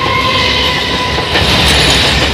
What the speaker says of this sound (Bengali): আমাদের এ পাশে দেখো ট্রেন যাচ্ছে